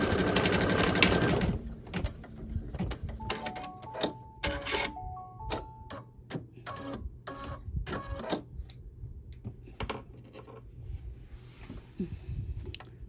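A home embroidery machine stitches a small square on fabric, a close, rapid mechanical rattle of needle strokes with clicking pauses and short beeping tones in between.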